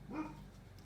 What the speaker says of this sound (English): That was one of our dogs saying hi